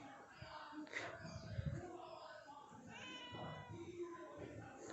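A house cat being fed fish heads meows several times up close, its calls drawn out and wavering over quiet background sounds.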